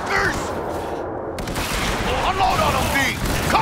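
Dense, continuous gunfire fills a Cyberpunk 2077 firefight, rapid bursts and booms layered over shouting voices and music throughout.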